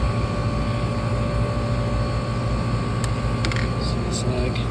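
A commercial HVAC condenser fan motor and compressor run steadily at close range, giving a continuous droning hum with a few brief clicks and metallic ticks near the end.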